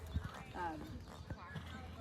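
Hoofbeats of a big horse in a collected canter at an eventing lesson, a few dull thuds in a loose three-beat rhythm, moderately near, with people talking over them.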